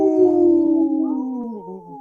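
A person imitates a wolf howl off camera during a radio show, one long, loud, sustained wail that slowly slides downward in pitch over about two seconds.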